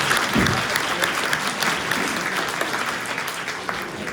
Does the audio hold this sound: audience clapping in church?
yes